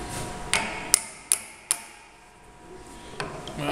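Hammers tap parts into place in a vise while setting up a Clausing drill press: four sharp, close metallic raps about half a second apart, then a pause and a fainter fifth tap, with no talking.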